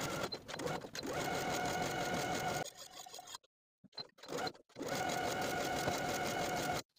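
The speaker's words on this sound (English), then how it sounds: "Top stitching all the way around with about 1/8 of an inch seam allowance." A sewing machine top stitches around a kimono jacket belt, running in a steady whirring burst, pausing briefly with a few clicks, then running again in another sustained stretch, close and clear.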